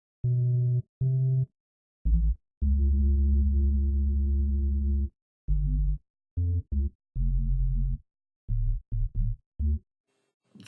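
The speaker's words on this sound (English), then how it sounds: "So this is our sub bass." A synthesized sub bass tone programmed in Ableton Live plays as a series of deep, pure sustained notes of varying length separated by short gaps, loud and alone.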